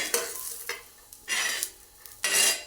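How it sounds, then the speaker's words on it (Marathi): Onion frying in oil until browned, close bursts of sizzling as it is stirred, three loud surges separated by quieter pauses with a few utensil clicks. "कांदा छान तांबूस रंगावर भाजलेला आहे"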